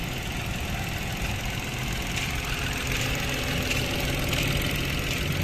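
A Mitsubishi Mirage hatchback engine, its wiring chewed by rats, idles steadily with a continuous low rumble and even mechanical hum, close and constant throughout.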